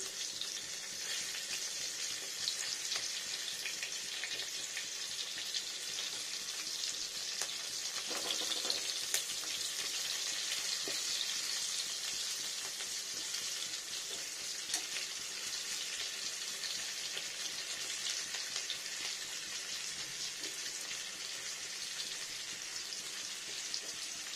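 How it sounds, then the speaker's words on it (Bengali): Steady crackling sizzle of onions frying in hot oil, continuous and close, with no voices. "একটু ভালো করে ভাজা যাবে পেঁয়াজটা"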